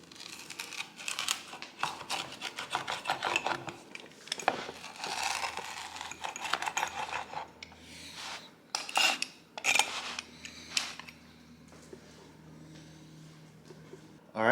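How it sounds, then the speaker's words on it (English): A homemade pizza baked on a pizza steel is sliced on a board. Crunchy scraping and rasping cuts come in bursts, then quieter rubbing, with voices talking faintly. "Okay, let's slice this thing up."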